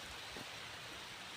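Rain falls steadily outdoors where someone shelters under a banana plant, a soft, even hiss of drops with no other sounds.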